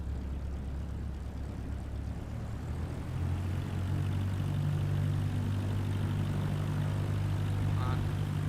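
A Cessna engine in Microsoft Flight Simulator 2024 drones low, then rises to a louder, steadier propeller hum as the plane begins its takeoff roll.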